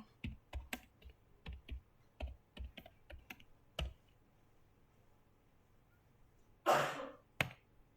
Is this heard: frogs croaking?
no